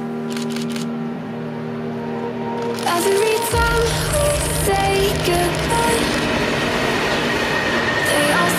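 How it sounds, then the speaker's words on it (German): A morning train runs along the line near Wiesau in Bavaria, starting with a steady hum and building to a loud, close rumble of wheels and cars rolling past with high squeals. "Jetzt erstmal hier der morgendliche Zug an der Strecke in der Nähe von"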